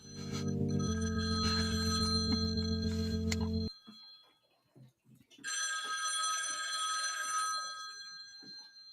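A telephone rings for an incoming caller to a radio show, sounding as steady, tonal, loud ringing bursts with a short gap between them, close and without talk.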